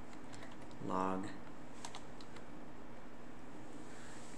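Keys on a computer keyboard are tapped in a few light, quick clicks at low volume, following a single brief spoken word over a faint steady background hum.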